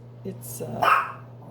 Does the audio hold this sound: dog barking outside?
yes